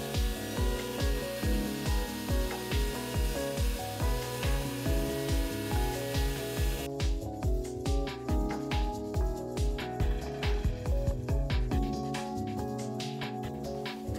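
A router with a flush-trim bit, run under a table, rounds the edges of a wooden fox cutout, producing a loud, buzzing machining whine with rhythmic pulses as the piece is fed along, then a sudden change in tone near the end.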